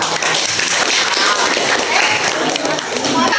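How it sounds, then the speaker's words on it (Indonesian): A classroom audience of students applauds a presenting group, steady dense clapping filling the whole moment at close range, with some voices mixed in. "Kita beri aplaus untuk kelompok 2"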